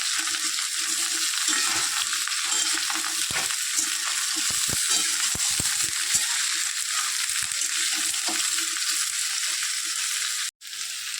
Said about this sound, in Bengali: ভালো করে সব সবজিগুলোকে ভালো করে ভাজবো, ভেজে নেবো আস্তে আস্তে